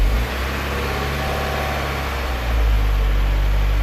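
A 2017 Subaru WRX engine fires up right after an AMSOIL oil change, a low steady hum that swells into a louder, fuller run partway through, close and without talk.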